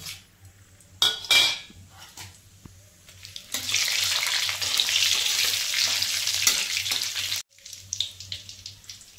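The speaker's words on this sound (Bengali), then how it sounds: "তেজপাতা দিয়ে দিব, দারচিনি, এলাচ, লবঙ্গ তেলের মধ্যে ছেড়ে দেব।" Bay leaf, cinnamon, cardamom and cloves dropped into hot oil and ghee burst into a loud, steady sizzle after some clinking of utensils, then cut off abruptly, followed by light pan sounds.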